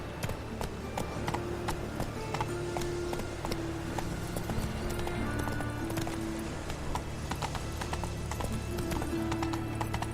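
Horse galloping in The Witcher 3 video game, rapid rhythmic hoofbeats close by with an occasional whinny, game music and ambience underneath, no talking.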